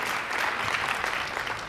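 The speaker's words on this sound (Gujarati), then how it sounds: "તાળીઓ સાથે વધાવીએ." Brief burst of steady clapping from the audience at a pensioners' association annual reunion of the Ahmedabad Municipal Corporation, a dense, even patter of many hands heard at moderate distance.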